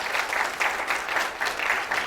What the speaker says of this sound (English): let's give a great round of applause to the candidate, Mr. Mohammed Faheem